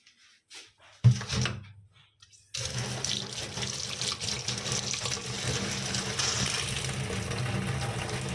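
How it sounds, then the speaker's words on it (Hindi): Grapes are washed under a running kitchen tap, starting with a few clatters and splashes, then a steady, full stream of water gushing into the sink that continues to the end. "तो ये जो हम ग्रेप्स लाए थे, इसे मैं धो लेती हूँ।"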